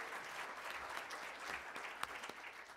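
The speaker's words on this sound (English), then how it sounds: "Let's give him another round of applause" A conference keynote audience applauds, a faint, distant, steady patter of clapping from a crowd with a few sharper individual claps.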